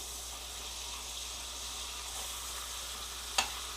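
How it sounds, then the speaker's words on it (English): Brook trout laid skin side down in hot margarine, cooking on low heat on a faulty camp stove, with a steady close hiss of frying throughout and a single sharp tap near the end. "Nice hot margarine. Drop the trout into there."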